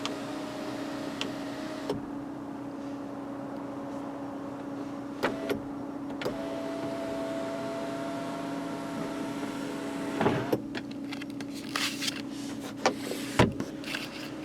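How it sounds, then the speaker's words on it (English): The power tilt-and-slide moonroof of a 2016 Toyota RAV4 runs with a steady electric motor whir inside the cabin. Soft clicks and knocks mark its start and stop, and a louder thunk near the end comes as it closes. "All but the base LE have this power tilt and slide moonroof with one-touch open close."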